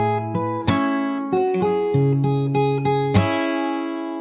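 Fingerstyle guitar plays the opening part of a song: a slow run of plucked notes and chords, each one ringing out, with a final chord left to decay.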